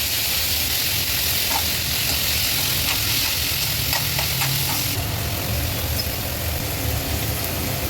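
Onions being sautéed in oil for a peanut chutney give off a steady, dense sizzle and crackle that holds through the whole stretch, with faint stirring scrapes now and then and no talking.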